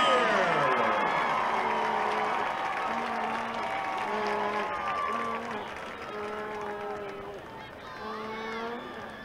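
A crowd at a high school 4A championship football game applauds and cheers for a varsity cheer squad, a dense roar of clapping and shouts with whoops and high voices rising over it, fading somewhat toward the end.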